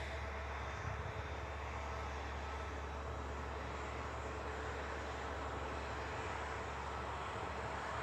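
An Aegean airliner taxis at Manchester Airport, its jet engines producing a steady, fairly distant drone that stays level throughout with no pauses.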